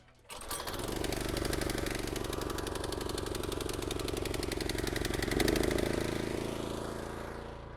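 A lawn mower engine starts up and runs steadily while cutting an overgrown lawn, a loud continuous droning hum with a slight surge midway.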